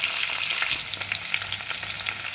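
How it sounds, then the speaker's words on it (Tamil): Green chillies, ginger and shallots frying in oil for sambar, a close, steady crackling sizzle with small spatters and stirring scrapes throughout, no speech. "அடுத்து பச்சை மிளகா, அடுத்து சின்ன வெங்காயம் கொஞ்சோண்டு,"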